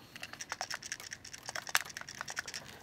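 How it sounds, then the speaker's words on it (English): Small metal fasteners on the handle of a 2017 Smith & Wesson / Schrade knife sheath rattle when it is moved, giving a fast run of light, close clicks and ticks. "what you're hearing there is just the fasteners for the handle if you move it"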